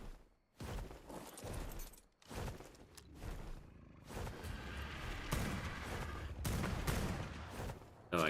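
Rapid gunfire in the game Ark on Astraeos, shots aimed at a creature, loud bursts of repeated shots and booms running almost the whole time with little pause.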